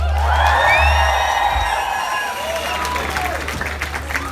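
Loud crowd applause at a concert in Dublin, mixed with cheers and whoops, a dense wash of clapping with shouting voices rising over it, filling the whole stretch.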